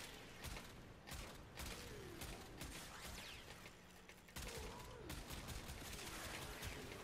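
Kuva Brakk shotgun firing in Warframe, repeated loud blasts in an irregular rhythm with mechanical clacks and game effects between shots, steady combat din throughout.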